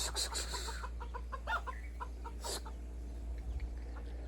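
Chickens cluck and squawk in short bursts nearby, with a steady low hum in the background.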